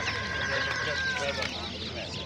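Fowl at the Sungurlu poultry market in Çorum cluck and squawk nearby, a steady jumble of bird calls mixed with people talking.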